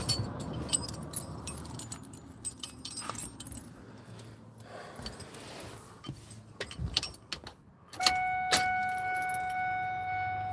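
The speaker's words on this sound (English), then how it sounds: "Now, I have to put the key in." Keys jangle and clink as they go into a truck's ignition, faint metallic rattles and knocks in a quiet cab, followed by a steady electronic chime tone near the end.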